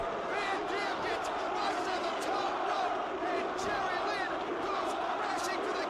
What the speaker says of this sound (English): the crowd chimes in with the "you fucked up" chant